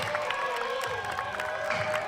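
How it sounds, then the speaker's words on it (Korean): A football stadium crowd applauds and cheers the players, a sustained wash of clapping with scattered shouts and voices mixed in. "선수들 큰 응원의 박수로"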